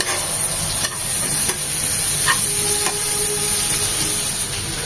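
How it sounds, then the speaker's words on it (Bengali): Chopped onion and garlic fry in mustard oil in a pan, giving a steady, close sizzle with occasional stirring scrapes throughout. "পেঁয়াজ আর রসুনটা ভাজা ভাজা হবে।"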